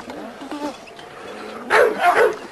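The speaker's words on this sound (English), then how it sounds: "This is my old dog, K2." K2, an old pet pit bull, barks in a yard: a few faint yips early, then a louder burst of two or three close barks near the end.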